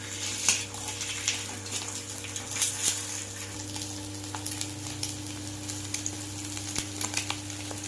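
Chicken fried rice with pepper powder sizzles in a hot pan as it is stirred, a steady close frying hiss broken by occasional scraping and clinking strokes, with no talking.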